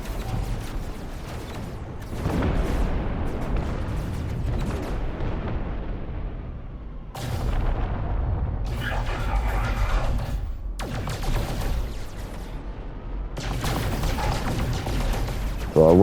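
Weapon fire from a ship in No Man's Sky: loud bursts of blasting and crackling shots in several separate volleys with short gaps between, close and heavy.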